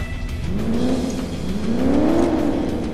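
A car engine in the racing video game Crash Time 2 revs up and climbs in pitch, dips, then surges again, loud and close with a synthetic game-like tone.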